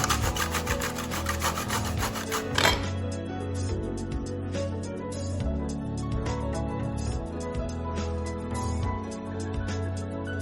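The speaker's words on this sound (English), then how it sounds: "all we need to do with the zucchinis is just chop off your little end and pretty much just grate away" A zucchini is grated by hand, giving a quick run of rhythmic rasping strokes near the start, after which steady background music carries on.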